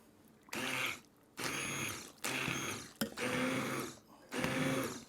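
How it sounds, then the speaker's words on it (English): Masala roasted vegetable soup is pureed with a stick blender in four bursts, each a loud whirring motor drone with churning, separated by short quiet pauses. "I'm going to take a stick blender."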